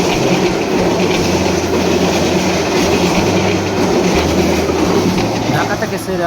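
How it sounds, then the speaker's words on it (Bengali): The Rangpur Express, hauled by a 3010-series locomotive, runs through Azimnagar station on line 2 without stopping, with loud, steady wagon rumble and clickety-clack of wheels near the listener, while a voice talks over it. "আসা রংপুরগামী 771 up Rangpur express Azimnagar rail স্টেশনের 2 নম্বর লাইন দিয়ে থ্রু পাস করে চলে যাচ্ছে 3010 সিরিজের লোকোমোটিভ নিয়ে।"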